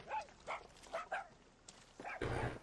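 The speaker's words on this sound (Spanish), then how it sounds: "Está ladrando chorizo, ¿no?" Chorizo, a small dog in the video game Far Cry 6, barks in short yips and whimpers, several quick quiet bursts followed by a louder noisy burst at the end.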